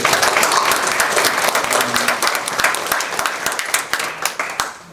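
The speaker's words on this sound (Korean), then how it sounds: "예, 박수." Loud, dense applause from a church assembly at a pastors' and elders' retirement ceremony, many hands clapping steadily and close, continuing throughout without any talk.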